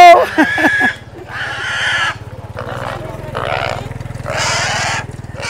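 Goats at a livestock stockyard in Canlaon, Negros, give loud, drawn-out bleats in repeated bursts, close up, over a steady low rumble; a brief voice opens the moment.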